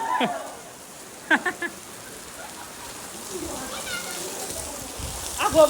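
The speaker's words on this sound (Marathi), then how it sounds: "पाऊस जोरात आला" Heavy rain pours outdoors during a Ganesh festival arrival ceremony, a steady soft hiss of falling water under brief bursts of nearby voices.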